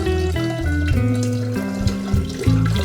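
Cold tap water runs into a kombucha jar in a steady stream, with the pitch rising as the jar fills, close and loud with no talking.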